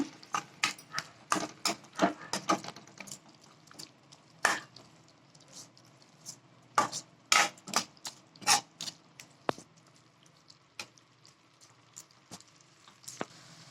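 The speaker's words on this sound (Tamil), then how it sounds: "இதை நல்லா மிக்ஸ் பண்ணிக்கோங்க." Repeated scraping and clinking of a spoon against a pan while stirring a spice mixture with rock salt for paneer pepper gravy, irregular and fairly quiet, over a soft background hiss.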